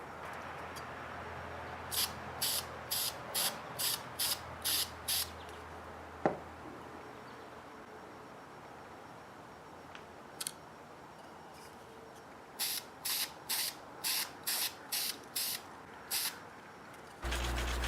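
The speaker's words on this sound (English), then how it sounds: "Now I'm going to put some spray varnish" Short sharp hisses of a spray can of varnish come in two quick runs of about eight bursts each, separated by a quiet stretch, close to the listener.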